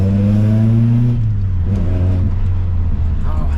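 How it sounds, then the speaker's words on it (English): Nissan Pulsar SSS car engine revving hard under throttle, a loud sustained low growl that rises in pitch and holds steady, close by, with a voice talking over it. "And now I'm hitting the throttle."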